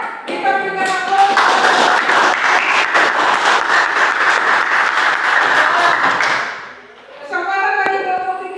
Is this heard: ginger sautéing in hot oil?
no